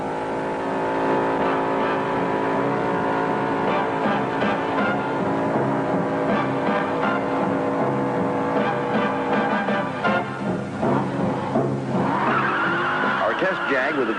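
A 1968 Jaguar XKE sports car is thrown into a four-wheel drift through a corner, its engine droning loudly and steadily while tires squeal near the end, with someone talking over it throughout.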